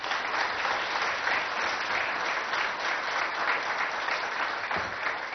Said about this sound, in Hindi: यहां जो जनता मौजूद है अपनी तालियों से बजाए